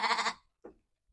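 A sheep eating fermented tofu-dregs feed gives one short, close bleat, followed by a fainter second call and then quiet.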